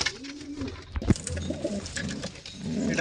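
Kaldom pigeons cooing in a loft, low repeated coos running steadily through the clip with a brief thump near the start, fairly close and clear, no talk.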